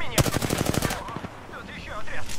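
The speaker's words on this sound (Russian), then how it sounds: "Они стреляют." A video game machine gun fires a rapid burst of about a dozen evenly spaced, loud shots lasting under a second, then fades into quieter game ambience.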